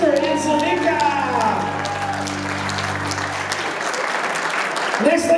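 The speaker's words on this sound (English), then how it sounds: "Big round of applause for Pawel and his sister Angelika." Wedding guests applaud in a sustained round of clapping that fills the room, while music plays underneath and a voice speaks over the start of the applause.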